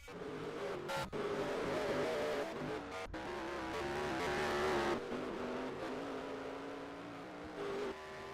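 Stock cars in NASCAR Racing 2003 droning down pit road at Evergreen, a loud sustained engine hum with shifting pitch as several cars slow and pass, no talk over it.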